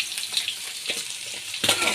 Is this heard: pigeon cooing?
no